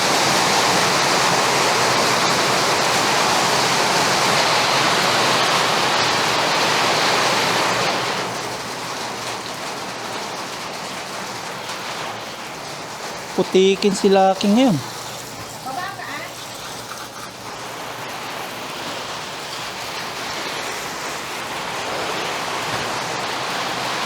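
Heavy storm rain pours in a steady, loud hiss, then drops to a softer wash. Someone speaks briefly partway through.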